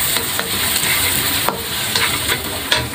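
Chopped onion for vegetable spring rolls sizzles and crackles steadily in a hot pan, with occasional sharper pops and stirring scrapes throughout, close and fairly loud with no talk.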